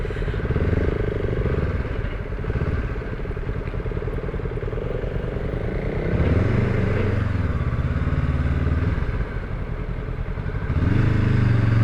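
A Honda CL500 motorcycle engine rumbles loudly and close while riding onto an expressway, with steady revving, gear changes and accelerating pulls over about twelve seconds, plus wind buffeting and light clatter.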